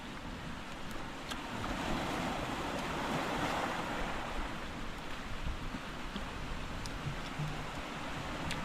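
Seaside waves roll in steadily, a broad continuous wash of surf with some wind buffeting the microphone; no one speaks.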